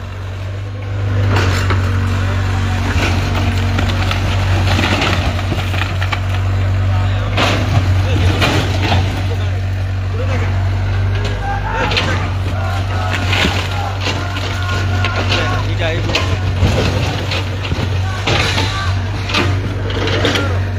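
A bulldozer demolishes the boundary wall of a house in Daganbhuiyan, with a constant low engine rumble under repeated crashes and thuds of breaking masonry, while people talk and shout nearby.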